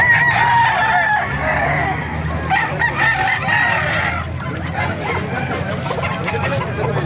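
Gamecock roosters crow repeatedly amid a busy outdoor crowd in Calumpit, Bulacan, Philippines, their calls rising over a steady murmur of voices and background noise.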